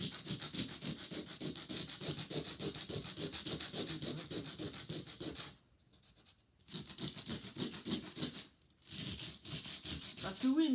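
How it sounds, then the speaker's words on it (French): Hand sanding a model railway turnout, a soft, close, rapid scratchy rubbing in steady back-and-forth strokes with two brief pauses. "Un petit coup de ponçage aux endroits où"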